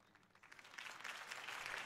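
A crowd at a political campaign rally in Batman: The Telltale Series breaks into applause that starts moderate and swells into sustained, dense clapping.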